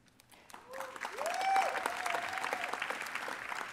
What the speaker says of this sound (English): let's hold our applause here just a sec